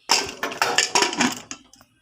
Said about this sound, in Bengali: তোমাদের সামনে ঢাকাটা আটকে দিই